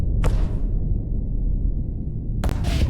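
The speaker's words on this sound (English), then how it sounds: "Ooh, splody noises." Two short bursts of explosion sound effects in the PowerWash Simulator video game, one near the start and another near the end, over a continuous low rumble with no talk.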